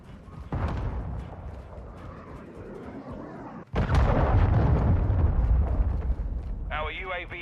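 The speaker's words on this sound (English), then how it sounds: "missile deployed" Cruise missile strike in Call of Duty: Modern Warfare 2 (2022): a loud blast at the start, a sharp cut, then a second heavy roaring explosion with rumbling debris, followed by a brief electronic chirp.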